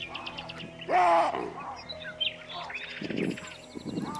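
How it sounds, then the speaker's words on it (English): Birds chirp and whistle in short bursts with one clear melodic call, over a quiet background of faint outdoor ambience. "the sounds of the birds echoed from all sides of the sky"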